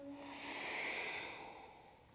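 Slow, steady breathing during downward facing dog in Ashtanga yoga, one long soft hissing breath close to the microphone that swells and then fades, with no talk over it.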